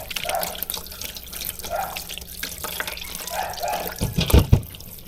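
Weak tap water running over freshly harvested cassava being washed by hand, a steady light splashing stream with intermittent drips and a few louder knocks and sloshes near the end.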